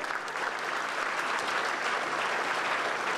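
Continuous, dense clapping from a sizable audience at an annual Pongal dinner, steady and fairly loud throughout with no voices.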